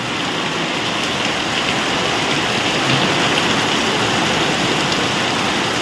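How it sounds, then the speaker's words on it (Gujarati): Heavy monsoon downpour driven by wind, the season's first rain in Botad, a loud dense roar of water on surfaces filling the whole stretch without a break. "મુસળધાર વરસાદ હો ભાઈ આ સીઝન નો પહેલો વરસાદ"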